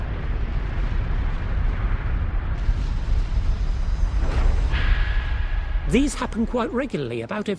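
A booming explosion sound effect standing in for a nova star blast rumbles heavily and continuously, swelling into a whooshing burst before a voice speaks over its tail.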